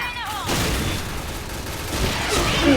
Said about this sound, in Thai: อ่ะระเบิดไป